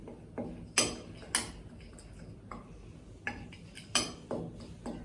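Mung salad with mint leaves being mixed in a bowl, a spoon knocking and clinking against the sides in irregular sharp taps, close and fairly quiet.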